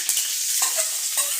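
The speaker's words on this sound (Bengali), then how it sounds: "শাক এখন ভাজা হবে, তেল দেওয়া হয়েছে" Mixed leafy greens frying in oil with onion, garlic and green chilli, a bright steady sizzle with a few soft stirring scrapes, short and close, without speech.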